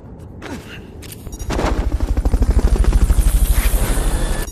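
Helicopter in the video game Metal Gear Solid: Peace Walker: a loud, steady rhythmic rotor thump builds in and pulses evenly, following a few sharp game effects at the start.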